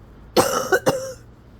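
A short burst of coughing, two or three quick hacks close by, fairly quiet, with silence around them.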